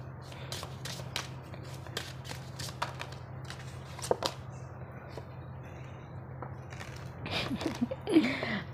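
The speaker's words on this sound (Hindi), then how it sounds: "जब तक हम कार्ड शफल कर रहे हैं" Tarot cards being shuffled close by, a steady run of soft papery riffles and flicks with a low hum underneath and a few sharper card slaps near the end.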